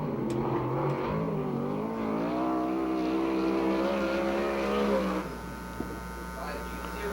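A USAC/CRA sprint car at Perris roars through a racing lap, its loud engine note rising and falling steadily in the foreground, then dropping away near the end as a lower steady hum remains.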